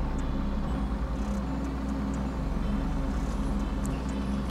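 A truck engine in GTA 5 roleplay droning at a steady low idle, a constant rumbling hum with a faint buzz on top and no other sounds.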